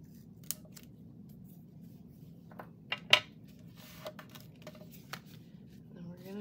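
Scissors trim an index card in a few quiet, crisp snips spread over several seconds, with one sharper cut near the middle, set against a low, steady room hum.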